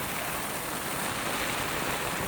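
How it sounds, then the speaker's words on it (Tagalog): Heavy rain pouring down steadily at a hacienda, a dense, loud, unbroken hiss with no pauses. "Napakalakas na ulan dito sa Hacienda."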